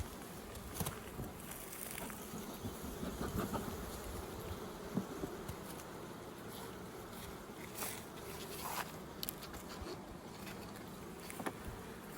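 Honeybees humming softly around an open hive frame outdoors, a faint continuous buzz with occasional closer passes and light knocks, no talking.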